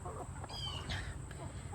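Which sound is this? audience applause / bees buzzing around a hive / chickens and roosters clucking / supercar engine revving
chickens and roosters clucking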